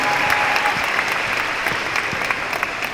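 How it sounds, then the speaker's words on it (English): A large audience at a Steve Harvey student session at SIBF 2019 claps continuously, a dense, even roar of applause throughout. "They clap a lot."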